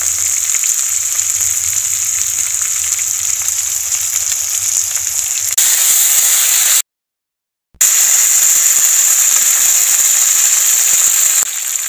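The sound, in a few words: sliced onion and ginger garlic paste frying with chicken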